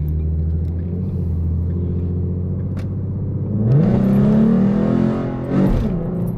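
A modified car pulls hard in a short acceleration run, its engine note rising from a low steady rumble into a loud climbing rev, then easing and surging again; heard from close by, with no talking.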